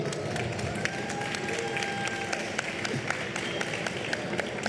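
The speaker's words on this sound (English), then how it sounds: "You beautiful people giving us a round of applause" An audience at Web Summit Rio 2025 applauding, a dense steady clatter of many hands clapping with a few louder claps standing out, filling the room evenly.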